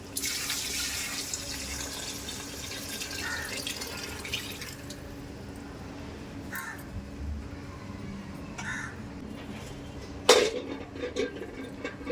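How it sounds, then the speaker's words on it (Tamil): Water pours from a tap into a pot of rice for mutton biryani, a steady hiss for the first few seconds. A few short crow caws follow outdoors, then a sharp clatter near the end. "இதே பாத்திரத்தில் தண்ணி ஊற்றிக்கலாம்"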